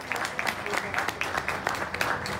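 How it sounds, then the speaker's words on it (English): Short burst of audience clapping at a church consecration service, fairly faint with distinct individual claps over a low murmur of voices. "Let's give them a big round of applause."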